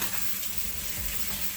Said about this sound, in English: This isn't like baking bacon. This is frying bacon.